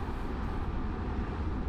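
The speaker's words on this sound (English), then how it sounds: "That's a loud airplane." Steady, loud drone of a Cessna 414 twin-engine airplane in a flight simulator, a dense broadband roar that stays constant with no other sounds.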